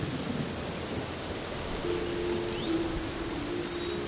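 Steady rain hisses with a deep rumble of thunder beneath it in Genshin Impact, a continuous, moderately loud stormy wash with no voices.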